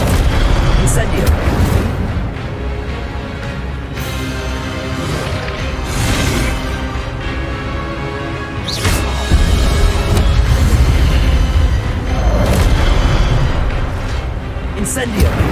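Fire spells cast in Hogwarts Legacy burst out in loud booming whooshes at intervals, over a constant roaring game soundscape.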